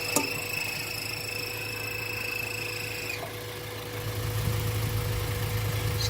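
A 1997 Acura Integra Type R engine idles steadily with a low, even hum, alone and at moderate level, a faint high whine fading partway through and the rumble thickening slightly near the end.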